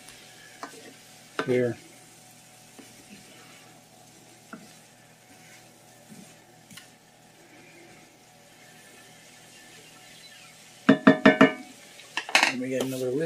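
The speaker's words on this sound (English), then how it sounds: "I'll just take my spatula and cut them in half" A spatula scrapes and clanks against a pan as vegan chick'n pieces are cut while frying, with a low sizzle throughout and a short burst of sharp metallic scraping near the end; a voice speaks briefly.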